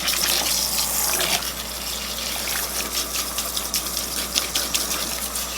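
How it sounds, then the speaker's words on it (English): Water gushes steadily while shampoo is rinsed out of hair, a loud, continuous splashing flow up close with some uneven spattering. "Thoroughly rinsing out the shampoo."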